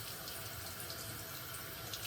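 A shaving brush is rinsed under a running tap, a steady, soft, close splashing hiss of water flowing into a sink, without any speech.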